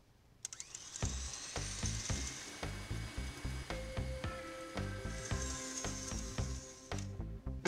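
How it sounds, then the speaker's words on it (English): An electric hand mixer whirs at high speed through an egg mixture for crinkle cookies, a steady close motor whine with rhythmic beater knocking against the bowl, starting abruptly and running throughout. "Now I'll mix this on high speed for about 2 to 3 minutes until it's light and frothy."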